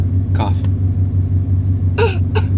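A voice imitates a few short, harsh coughs over a steady low rumble, two bursts spaced apart.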